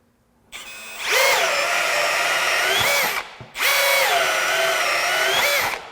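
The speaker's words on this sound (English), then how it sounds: "We're going to start out with a 1/2-inch spade bit, work our way up." Milwaukee M18 compact brushless drill boring with a 1/2-inch spade bit, two loud sustained runs of motor whine with a brief stop between them, close by and alone.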